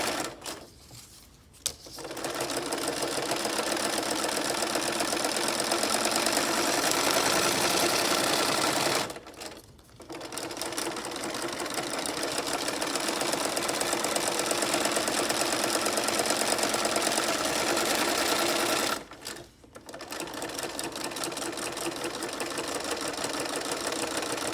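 A sewing machine stitches a paper bat garland in three long, even runs of rapid mechanical whirring, each separated by a short pause.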